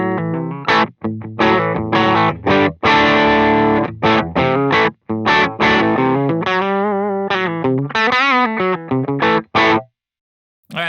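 A 1999 Les Paul electric guitar played through an LPD Pedals Seventy4 overdrive pedal into a small Dr. Z Carmen Ghia amp, distorted chords and riffs with ringing sustained notes, loud and close, ending with a short silence.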